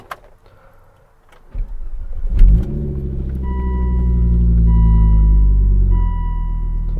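A Volvo S60R's 5-cylinder engine cranks briefly, catches and settles into a deep, steady idle, loud and close, with a slight swell in rumble before easing back.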